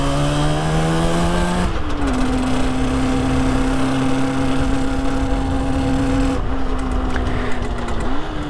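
A stone-cold 1966 Suzuki 150 two-stroke motorcycle engine idles steadily as it warms up, a loud, buzzy drone with small pitch shifts as the revs dip and settle, up close and with no talking.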